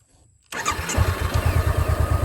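A Honda CB500X motorcycle cranks briefly after near silence, catches, and settles into a loud, close, pulsing idle with an even, rapid beat.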